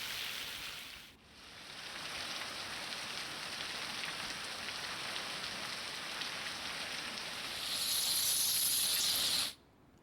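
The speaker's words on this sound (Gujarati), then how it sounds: "વરલ ગામમાં ધોધમાર વરસાદ વરસ્યો છે" Heavy monsoon downpour over Varal village near Sihor in Bhavnagar, Gujarat: a dense, loud, continuous hiss of rain that briefly dips near the start, swells louder toward the end, then cuts off abruptly.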